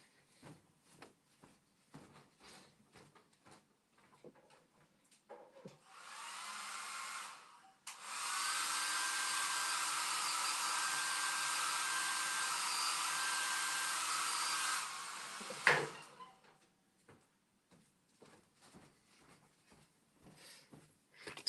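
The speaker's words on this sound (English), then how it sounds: "blow dryer." A blow dryer switches on, runs steadily with a loud, even whoosh for several seconds, then cuts off, with light handling and tapping noises before and after.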